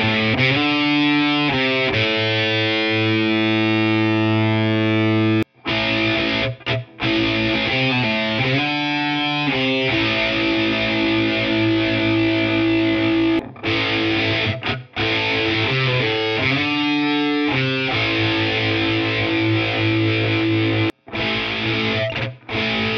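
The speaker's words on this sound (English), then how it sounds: "the whole point of this pedal is to take that distortion and then add doubling and chorus effects on top of it" A Boss MZ-2 Digital Metalizer pedal in doubling mode thickens a heavily distorted electric guitar, which plays chugging rhythm chords with brief stops and sustained riffs, loud and close, with no talk.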